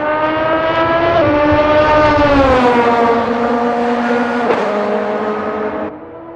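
Race cars roar steadily at close range during a Sebring 80-minute sim race in a video game, rising and falling engine harmonics from several cars overtaking, loud and continuous until fading near the end.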